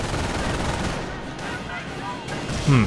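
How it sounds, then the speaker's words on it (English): Mortar fire in Company of Heroes: a dense rumble of battlefield blasts and gunfire, with several muffled impacts and a sharper burst at the end, while voices talk underneath. "let's pull back, because we're getting mortared"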